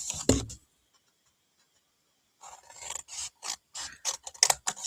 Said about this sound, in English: then we're going to take off these corners